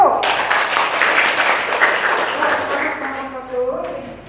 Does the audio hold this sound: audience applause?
yes